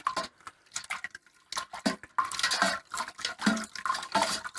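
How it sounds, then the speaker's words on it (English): A spoon stirring beer brewing mix into hot water in a pot, producing close, irregular clinks, scrapes and liquid swishes with brief pauses and no speech. "I'll just quickly stir this up, get it mixed through"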